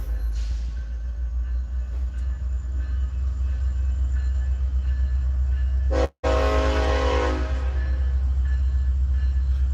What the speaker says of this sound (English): you're about to hear a train